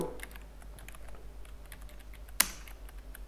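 Python code is typed on a computer keyboard in a notebook editor: a quiet, fast run of key clicks with one sharper, louder keystroke near the end.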